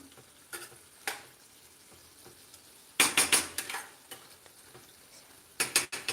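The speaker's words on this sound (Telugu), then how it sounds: "ఇలా మంచిగా కలుపుకోవాలి" Chicken fry being stirred in a pan, a faint sizzle broken by bursts of loud scraping and clattering spoon strokes against the metal.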